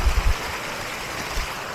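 River water flows steadily beside a muddy riding trail in Manaol while shoes are washed, a close rushing wash with a few low splashy thumps at the start.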